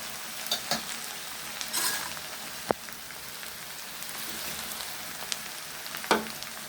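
Cardamom, cinnamon, bay leaf and a pulao leaf fry in hot oil with a soft, continuous sizzle, broken by occasional scraping stirs and clinks of a spoon. Close but fairly quiet, with no talking.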